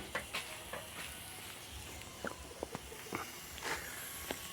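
Chilies and shallots stir-fried in a pan, with steady faint sizzling and occasional light clicks and scrapes of a stirring utensil, no voices.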